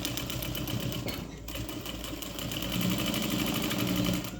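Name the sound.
sewing machine stitching around a pet bandana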